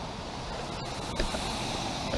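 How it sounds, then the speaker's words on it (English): Standing atop a waterfall at The Furnace Place in Gaffney, South Carolina, with a steady, dense broadband rush of falling water filling the whole moment, close and continuous with no voices. "I'm pretty much standing on top of the waterfall here"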